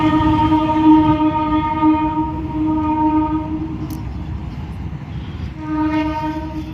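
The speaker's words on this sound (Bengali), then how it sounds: "এটা লোকাল ট্রেন" A local train passes near Kolaghat Bridge over the Rupnarayan River: a loud, steady rolling rumble runs throughout, with a sustained horn-like tone held across most of the pass.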